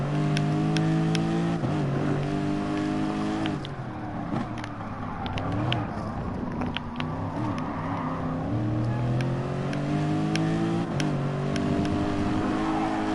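A heavy race car in a PS4 racing game runs continuously at high revs, its engine note climbing and dropping through gear changes, loud and steady with no voices.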